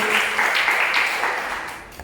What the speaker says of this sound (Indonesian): tepuk tangan sekali lagi untuk Tuhan Yesus Kristus